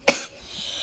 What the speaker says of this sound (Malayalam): ചുമ വന്നു കേട്ടോ.